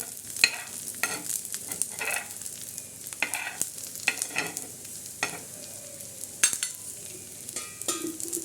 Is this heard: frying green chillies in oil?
yes